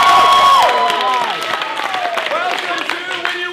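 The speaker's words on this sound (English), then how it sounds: "One more time, by a sound of applause," A live theater audience at a Star Wars–themed Disney parody show applauds and cheers loudly, with whoops and shouting voices over steady dense clapping throughout.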